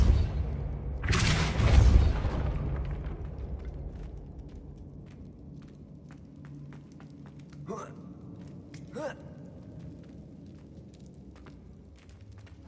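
Depulso spell cast in a Harry Potter video game, a sudden loud whooshing burst with a deep boom, decaying into quieter ambience with scattered clicks and two brief whooshes later.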